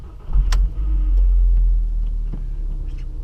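A VW Jetta engine cranks and catches on a cold day, settling into a steady low idle rumble heard close up with no talking.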